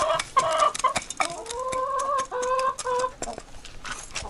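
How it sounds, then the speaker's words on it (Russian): Hens clucking and cackling in a farmyard as they feed, a busy overlapping chorus of short calls and drawn-out tonal clucks, close and fairly loud throughout. "Кушают мои девочки. Мои курочки."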